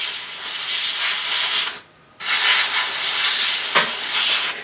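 An airbrush sprays varnish onto a statue piece, giving a loud airy hiss that cuts off briefly partway through before resuming steadily.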